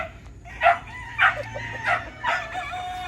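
Backyard hens and a rooster call several times in short, separated bursts over a low hum, fairly close by.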